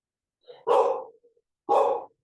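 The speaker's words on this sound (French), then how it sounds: "les chiens se sont calmés" Two dogs' barks, loud and close, arrive as separate bursts about a second apart, the first preceded by a short softer yelp, with no talking.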